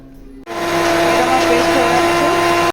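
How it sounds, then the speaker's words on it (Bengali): Chopped yardlong beans ground to a paste in an electric mixer grinder, the motor starting abruptly after a brief quiet moment and then droning loud and steady to the end. "বরবটিগুলোকে সব ছোটো ছোটো পিস করে নিয়েছি, মিক্সিতে দিয়ে দিয়েছি। এবার এটা ঘুরিয়ে নেবো।"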